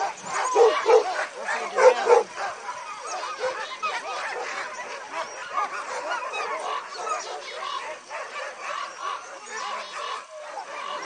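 Alaskan sled dogs bark, yip and whimper over and over in an excited chorus that overlaps throughout, loud and close, with a few sharper yelps early on.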